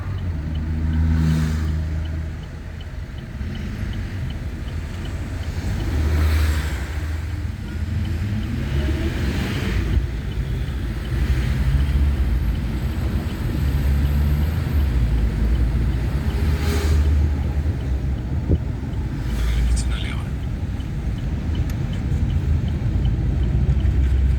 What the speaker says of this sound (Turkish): Çok fazla bir trafik var.